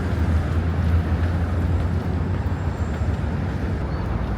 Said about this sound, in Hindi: दबादब ट्रैफिक चल रहा है मेरे पीछे।